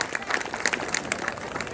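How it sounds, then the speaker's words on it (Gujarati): Brief crowd applause at a cricket tournament inauguration on a police ground in Viramgam, with steady, dense clapping from a gathered audience that stays moderately loud and even throughout, some voices mixed in. "એકવાર જોરદાર તાળીઓ પ્રદીપભાઈ માટે પડી છે"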